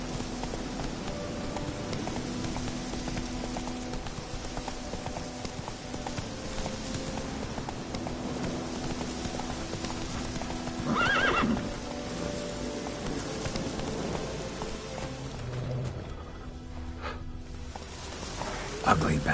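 A horse in The Witcher 3 gallops with steady rhythmic hoofbeats over game ambience and gives a loud whinny partway through. Someone talks at times over the hooves.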